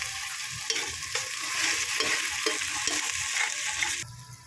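Ginger garlic paste frying and being stirred in a pan for chicken biryani, a loud, continuous close sizzle with scraping stir strokes that drops off near the end.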